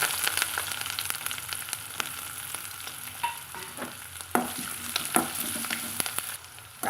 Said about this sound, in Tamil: ஓரளவுக்கு நம்மளுக்கு பச்சை வாசம் போகிற அளவுக்கு இதை வதக்கி எடுத்துக்கலாங்க